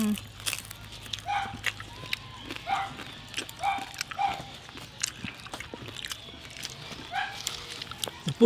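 A dog barks in a series of short, scattered woofs at an outdoor pork belly roast, with people talking over it.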